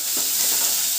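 Cumin seeds sizzle in hot oil while tempering for majjiga charu, a steady, close, bright hiss of frying that holds evenly throughout with no voices.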